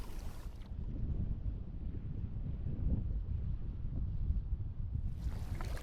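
Wind buffets the microphone while kayaking on Frenchman Bay, a steady low rumbling gust noise with soft water movement underneath, moderately faint and continuous, no voices.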